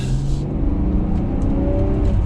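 A 2021 BMW 540i sedan engine revving up as it accelerates in sport mode, a loud, rising drone with shifting tones inside the cabin, steady and continuous.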